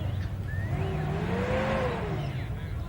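Street machine engine revving hard at a burnout competition in a packed arena complex, a loud sustained roar with rising and falling pitch over crowd noise.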